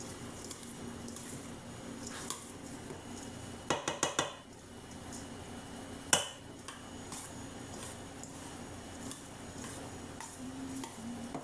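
Tebola mango salad being stirred together in a bowl with sauce, a run of close, quick clinks and taps of a utensil against the bowl followed later by a single sharp knock, over steady low kitchen background.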